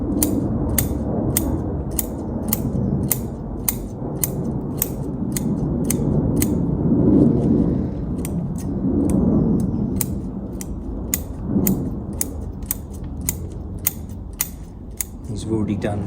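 Somewhat blunt bonsai scissors snipping repeatedly while a bonsai tree is repotted, sharp crisp cuts in a rapid, slightly uneven rhythm over low background rustling and handling noise.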